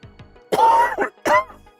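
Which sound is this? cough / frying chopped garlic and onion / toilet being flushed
cough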